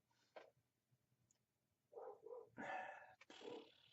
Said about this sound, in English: I'm sure the dog is barking in the background